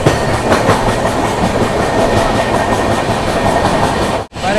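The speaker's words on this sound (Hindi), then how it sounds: "एक पैसेंजर ट्रेन को पीछे छोड़ रही है।" An express train overtaking a passenger train on the route out of Delhi rolls along loudly and steadily, with rhythmic clickety-clack from the wheels and a heavy rushing roar. A sudden brief dropout comes near the end.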